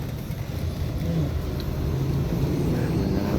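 The engine of a 2019 Toyota Fortuner, worked on during an EGR valve cleaning, gives a close, steady low rumble that swells slightly as the throttle is pressed.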